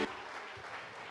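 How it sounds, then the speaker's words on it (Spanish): A church congregation breaks into steady, dense applause during a worship service, a brief, even wash of many hands clapping at moderate loudness with no voices on top. "den un aplauso fuerte al Señor"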